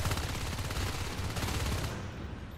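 Rapid automatic gunfire from a Natural Selection 2 match, a dense continuous rattle of shots close up and loud, thinning slightly toward the end.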